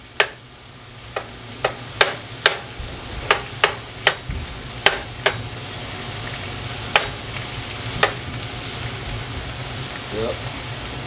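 Ground turkey sizzling steadily in a pan for a chopped cheese sandwich, a constant hiss broken by sharp spatula clacks and scrapes, with a voice talking at times.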